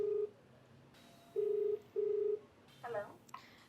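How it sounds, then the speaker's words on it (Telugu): A telephone call is placed on a phone, with short dialing tones heard as several separate beeps in an uneven rhythm, followed by faint clicks and line noise, fairly quiet overall. "మరి కాల్ చేయనండి."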